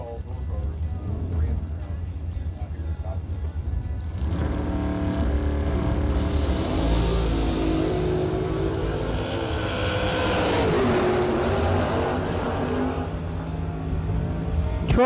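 Drag racing cars launch down the strip at a bracket racing event. After a quieter start with a voice talking, loud engines erupt into a sustained broadband roar with rising and falling pitch, lasting to the end with speech running over it.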